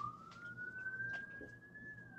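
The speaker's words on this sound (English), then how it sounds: "who has sirens going on in the background?" A police siren wails steadily in the distance, its tone rising slowly and holding, over low background rumble.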